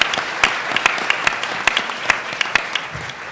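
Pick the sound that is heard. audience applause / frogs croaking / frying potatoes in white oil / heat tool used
audience applause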